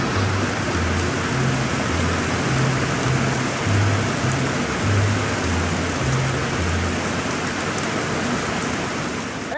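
Rain falling outdoors at an oak chainsaw-carving site, a dense, steady hiss that stays loud and unbroken throughout with no voices.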